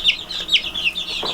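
Young chicks in a brooder give a few short, high, close peeps and clucks, repeated in quick succession over a quiet background.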